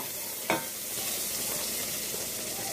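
A spoon scrapes and breaks up a sausage in a pan of sizzling cabbage and sausage, one sharp clink over a steady close frying hiss.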